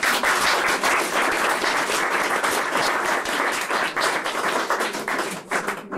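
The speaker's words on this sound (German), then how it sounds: "Ich glaube, es ist ein Applaus wert" Audience applause fills a festival hall during a 1995 forum book launch, a dense, steady burst of many hands clapping that continues for several seconds and thins slightly near the end.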